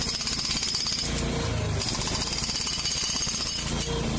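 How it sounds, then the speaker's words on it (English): Played-back drilling, a loud, rapid jackhammer-like rattling that hammers continuously for a few seconds before cutting off abruptly. "There's drilling sounds."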